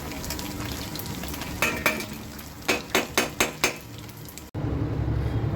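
Chopped garlic hits hot oil in a pan for chicken chowmein, a steady sizzle with several sharp clinks of a spoon or spatula against the pan, close and fairly loud, without talk.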